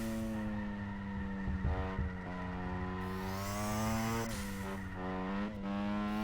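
A race car engine on street tires revs under throttle, its steady harmonic drone rising and falling in pitch with each push of the pedal, loud and close, without voices.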